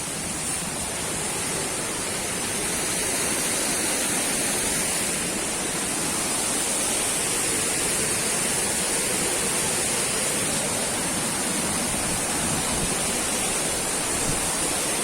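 A steady, loud rush of a waterfall roars without a break, a dense broadband hiss close by with no voices, in Aladağlar National Park, Yahyalı, Kayseri, Turkey.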